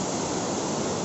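Steady, dense roar of a large waterfall at Bagha Sarahan in Himachal Pradesh, with water crashing continuously and evenly throughout, loud and close, with no voices.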